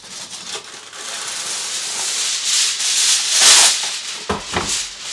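Aluminum foil is handled and crimped around a wrapped corned beef dinner for a crock pot. Loud, close crinkling and rustling builds and swells, ending in a few sharper crumples, with no talking.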